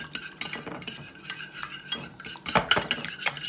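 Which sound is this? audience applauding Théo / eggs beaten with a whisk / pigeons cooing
eggs beaten with a whisk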